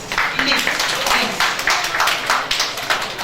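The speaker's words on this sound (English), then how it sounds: "let's give ourselves a round of applause" An audience at a girls' education budget performance dissemination meeting breaks into a round of applause: steady, fairly close clapping that holds evenly for a few seconds with no clear speech over it.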